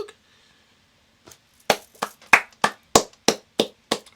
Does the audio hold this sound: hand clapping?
yes